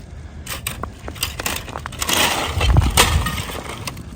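Ice on a frozen lake cracks and pings, sounding like panes of glass. Sharp snapping cracks and crackles come in quick, irregular bursts over a low rumble, growing denser and louder midway.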